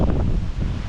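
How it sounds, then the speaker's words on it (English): Strong wind from a tropical storm buffets the microphone near a flooded bridge during fishing, a loud, low rumbling gust with rustling that lasts about a second. "That wind is a hoofing"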